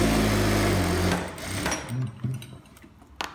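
A sewing machine stitches palazzo trousers, running loud and steady for about a second before stopping, followed by quieter handling sounds and a few short stitch bursts.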